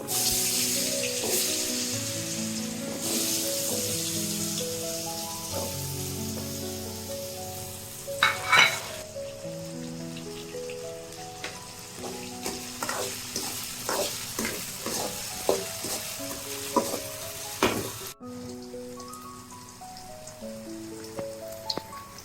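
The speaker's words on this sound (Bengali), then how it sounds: "তেল তেল গরম হয়ে গেছে, আমি এখন আলুগুলো দিয়ে দিচ্ছি।" Potatoes fry in hot mustard oil in a kadai for a village-style fish curry, a continuous close sizzle with crackling spatters and occasional stirring clinks, with music playing underneath throughout.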